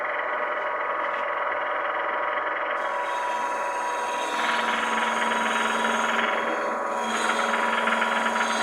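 Wood turning on a lathe while a tenon is cut, a steady broadband hiss and whir of the tool on spinning wood, continuous and fairly loud with a shift in tone partway through.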